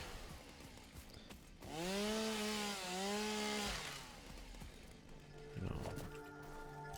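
Chainsaw cutting down trees in the game Satisfactory, a rising buzzing whine that swells loudly for about two seconds, dips briefly and revs again, with game sounds around it.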